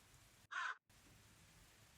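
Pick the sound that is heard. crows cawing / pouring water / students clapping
crows cawing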